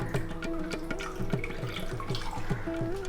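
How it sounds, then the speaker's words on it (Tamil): Water drains off soaked basmati rice in a kitchen, trickling and dripping steadily with repeated small splashes, close and moderately loud. "தண்ணியெல்லாம் நான் வடிய விட்டுறேன்."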